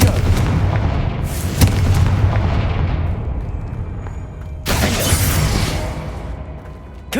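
Confringo explosive spell blasts in the Hogwarts Legacy video game, two heavy booming detonations with sharp cracks and long rumbling decays, loud and close with no talking.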